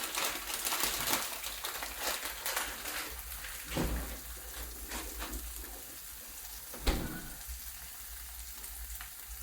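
Steady, crackling sizzle of cheese melting in a hot frying pan, with occasional sharper pops and spits; no talking.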